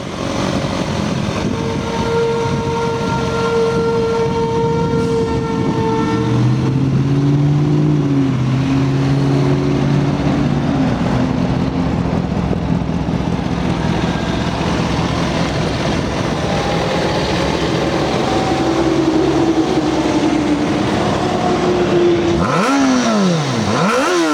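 A Kawasaki Ninja ZX-6R inline-four motorcycle engine idles smoothly up close, then revs up and down in several rising and falling sweeps before cutting off near the end.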